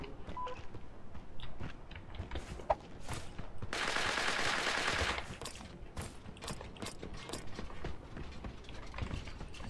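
Gunfire in the video game Creative Destruction, with bursts of rapid shots, sharp cracks and mechanical clatter, and a dense stretch of automatic fire in the middle, loud and close.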